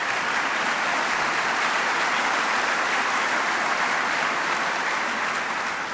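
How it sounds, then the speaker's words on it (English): Long sustained applause from a large audience at a speech at MIT, a loud, dense, even wash of clapping with no voice over it. "That's worth applause."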